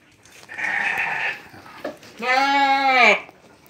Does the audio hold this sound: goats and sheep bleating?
yes